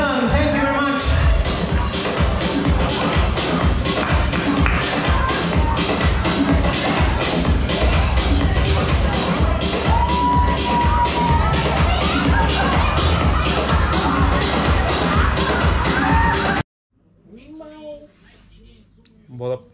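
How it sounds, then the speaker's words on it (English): A holiday crowd in Salou claps and cheers for the Liverpool singers Mel and Helen, with loud, steady rhythmic clapping and crowd noise that cut off abruptly near the end, followed by a voice talking. "Massive applause for singers tonight from Liverpool"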